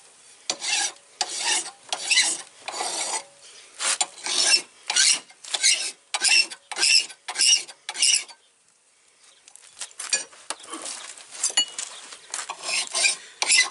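A hand file rasps burrs off budget knife steel in steady back-and-forth strokes, close and scratchy, with a brief pause before the strokes resume at a quicker, busier pace.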